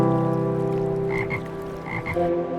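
Frogs or toads croak in a steady, dense chorus with sustained rattling tones, a couple of louder calls standing out near the middle and end, with no voices.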